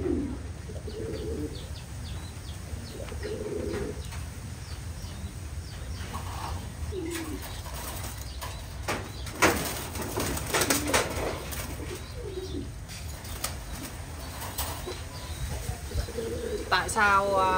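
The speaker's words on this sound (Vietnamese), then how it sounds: "Đây là con chim bồ câu trống nhé." A male domestic pigeon coos in repeated low, throaty phrases with short gaps, close by, while a person speaks intermittently over the calls.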